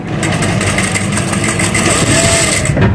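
A sewing machine stitching gathers into a frock, its motor running in a loud, continuous close-up whir with a steady mechanical rattle and no breaks.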